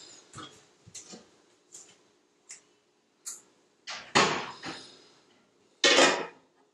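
A jar lid opened during tomato canning, heard as a run of light metallic clicks and taps that build to two louder clanks near the end, with no talking.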